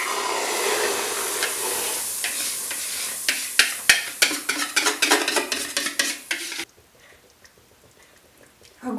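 A quick run of scraping and clattering as batter is poured into a hot, smoking pan builds over several seconds, then cuts off abruptly, leaving near silence.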